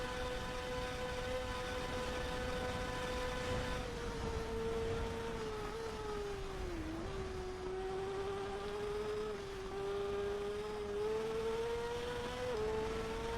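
Honda superbike held at full throttle in TT Isle of Man 2, a loud sustained engine howl with a steady pitch that dips briefly and recovers as it flies flat out, with no talk.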